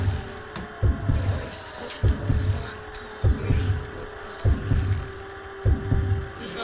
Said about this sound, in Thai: ตอนนี้เสียงหัวใจของเราเต้นตุ๊บตับตุ๊บตับมาเลยครับผม